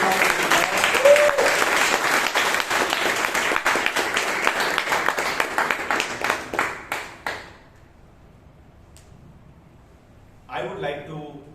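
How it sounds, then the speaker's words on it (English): Audience applause at a Toastmasters meeting in Bangalore, a dense burst of many hands clapping that thins out and fades into near silence, followed by a brief voice at the end. "please give a big round of applause"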